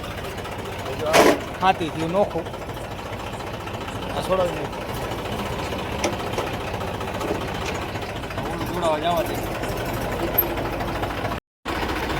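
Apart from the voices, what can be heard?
tractor engine idling on farm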